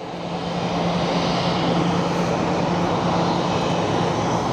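SkyWest regional airliner from Yuma approaching to land at Phoenix Sky Harbor, a steady, loud engine roar with a faint low hum running evenly throughout, no voices.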